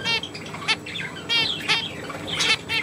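Small bird, called the Milka bird, giving several short chirps and bright twittering bursts with soft flutters, close and fairly clear over a light background hiss.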